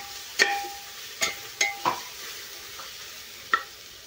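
Masala and tomato frying in a pan for green pulao, with a low steady sizzle broken by several sharp scraping stirs of a spoon against the pan, close and clear, with no voices.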